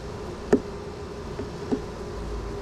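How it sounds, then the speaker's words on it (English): A hive of bees fans their wings to cool it, making a faint continuous buzzing hum with a couple of soft ticks. "Wow, look at all those bees. That's so many bees, man."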